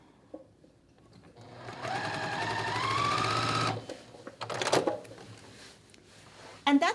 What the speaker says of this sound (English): I'm just gonna unstitch these, stitch back over it